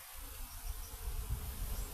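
Bees hum softly around a backyard hive, a faint low drone with small swells as insects move near the entrance, quiet and continuous without any talking.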